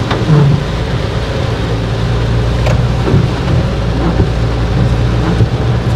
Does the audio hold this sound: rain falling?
yes